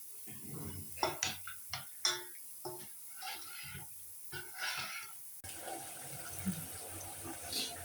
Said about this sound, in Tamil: அழகாக தண்ணி ஊற்று